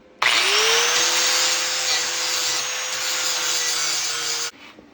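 A power tool grinds wood to make a piece fit, its motor spinning up with a rising whine and then holding a loud, steady abrasive rasp for about four seconds before cutting off.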